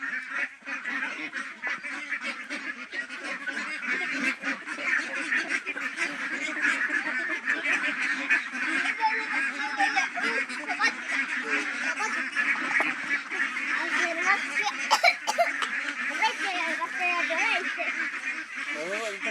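A large flock of domestic ducks, about seven weeks old and kept for sale, quacks and honks continuously, forming a dense, busy chorus that stays close and loud throughout, with scattered louder calls rising above the mass.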